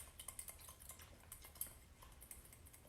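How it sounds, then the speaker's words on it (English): A spoon stirs sugar into liquid to dissolve it, making faint, quick, repeated clinks and scrapes against the container that run steadily through the clip. "So just stirring the sugar"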